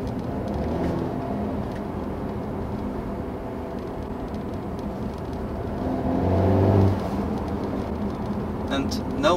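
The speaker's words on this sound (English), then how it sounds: "Sound is amazing, especially for a 2 liter 4-cylinder engine." A 2018 Mercedes E-Class Coupe AMG with a 2-litre four-cylinder engine drones steadily from inside the cabin, swelling briefly as it pulls harder, with a voice talking over it throughout.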